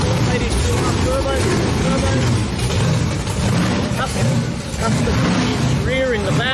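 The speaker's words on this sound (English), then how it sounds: "I don't think we can hear anything over those two cars." Loud modified car engines, one an LS3 with a turbo, rumble and rev close by at a drift and cruise event, a constant heavy drone with people talking over the noise.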